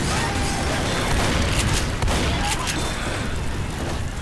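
In Left 4 Dead, a thrown Molotov cocktail bursts into fire amid loud, sustained gunfire and booming, the flames roaring under a dense wash of battle noise.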